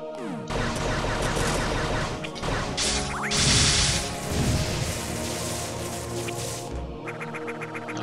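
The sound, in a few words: explosion in video game Metroid 2 remake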